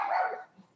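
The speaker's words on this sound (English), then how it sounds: "Oh no, dog." A single short dog bark, close and fairly loud, fading out quickly with a faint low trailing sound.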